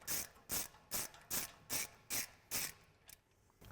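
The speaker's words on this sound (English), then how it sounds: "Then I'll switch over to my 1/2" drive ratchet with my 19mm" A 1/2-inch drive ratchet with a 19mm socket loosening bolts during a 2015-2021 Toyota Tundra brake kit install, giving six or seven sharp, evenly spaced ratcheting clicks up close in a quiet space.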